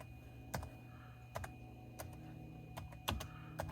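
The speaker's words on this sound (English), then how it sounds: "So I could type in" Fingers type on a computer keyboard in quiet, irregular taps, a few distinct clicks spread over several seconds against a low steady background hum.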